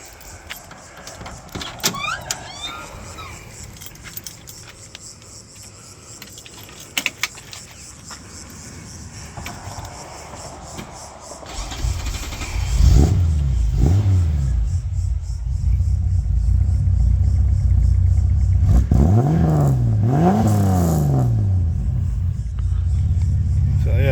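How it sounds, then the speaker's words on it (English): After some clicks and handling noises, the 186 engine of an old Holden HR barn find cranks, catches, and revs up a few times with rising and falling roars, close by. "Like I'll start it up so you can have a listen to it."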